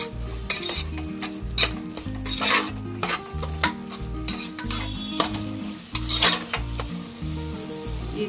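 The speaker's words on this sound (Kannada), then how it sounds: "ಜೊತೆಗೆ ಅರಿಶಿನ ಪುಡಿ, ಗರಂ ಮಸಾಲೆ ಎರಡು ಹಾಕಿ ಒಂದು 20 ಸೆಕೆಂಡ್ ಫ್ರೈ ಮಾಡಿದ್ರೆ" Turmeric powder and garam masala being stir-fried in a pan, with a steady sizzle and repeated scraping stirs running throughout over a low, rhythmic background; no one speaks.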